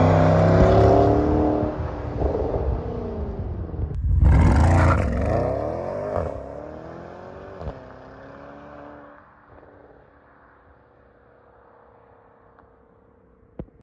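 A Porsche sports car in Sport Plus mode roars loudly up close, the engine rising and falling through several revs before settling, then fading with a few sharp exhaust pops and burbles near the end.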